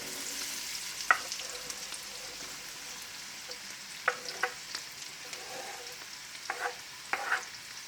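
Chopped onion and celery hiss gently in oil while being stirred, a steady low sizzle broken by occasional sharp scrapes and taps of the spoon against the pan, close up.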